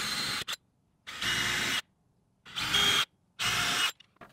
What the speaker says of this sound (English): I'm going to go ahead and pre-drill those.